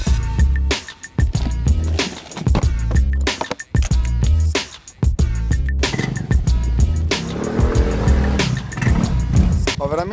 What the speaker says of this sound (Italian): Veramente una marmitta da tamarro.